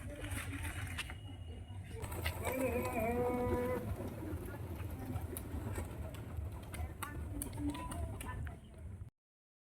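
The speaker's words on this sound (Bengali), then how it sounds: "প্রচুর পায়রা আছে, সব ভালো ভালো খেলা পায়রা" Pigeons at a sale of fancy flying birds, a cluster of soft cooing calls rising over a busy background of rustling and murmuring, with the coos most distinct around the middle before the sound cuts off.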